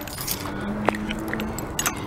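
Keys jangle in a short, close burst while a Chevrolet S10 pickup is locked up, a bright metallic rattle near the middle over a steady low hum.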